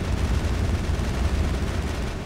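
Assault rifle fire in the Mass Effect game, a continuous rapid stream of shots forming a dense, loud rattle that runs unbroken from start to finish with no voices.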